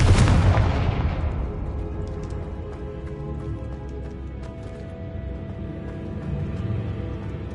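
Bombarda and Confringo spells detonate in Hogwarts Legacy, opening with one heavy, loud blast whose booming rumble fades slowly into a steady low background drone.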